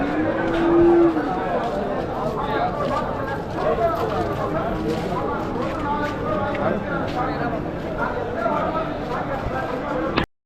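Buffalo calves at an open cattle market in Vaniyambadi, with lowing and scattered hoof clatter amid busy crowd noise, while someone talks steadily over it.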